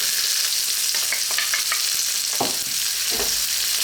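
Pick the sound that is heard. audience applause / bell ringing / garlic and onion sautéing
garlic and onion sautéing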